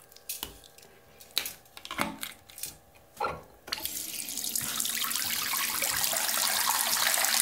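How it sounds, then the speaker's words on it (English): Cold water runs from a tap into a sink, starting with a few clinks and handling knocks before a steady, close rushing stream that grows fuller as the basin fills. "first, I'm going to fill the sink with water."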